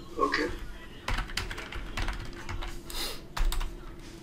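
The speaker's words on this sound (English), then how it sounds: "I just start with typing." Someone types on a computer keyboard while formatting a document in MS Word, with bursts of quick key clicks recorded close up and a little talk mixed in.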